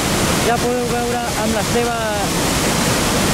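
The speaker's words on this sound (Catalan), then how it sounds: "aquest impressionant salt d'aigua" Murchison Falls in Uganda roaring as a constant, loud rush of falling water, with someone speaking over the steady noise.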